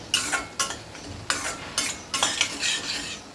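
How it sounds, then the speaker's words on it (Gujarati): Spices are stirred into gathiya curry in a pan, a spoon scraping and clinking against the metal in quick, uneven strokes over a faint sizzle. "આ બધા મસાલા નાખીને તમારે મિક્સ કરી લેવાનું છે"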